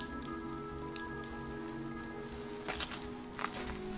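Steady rain falling during rainy weather on La Palma in the Canary Islands, a continuous soft patter with scattered louder drops and faint background hum, heard alone at low level.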